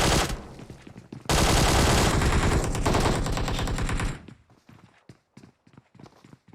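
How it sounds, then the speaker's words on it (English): Rapid hip-fire gunshots in a PUBG Mobile clan-war scrim, a dense, loud burst of automatic fire lasting a few seconds, then trailing into scattered single shots and footsteps with no talk. "So much hip fire."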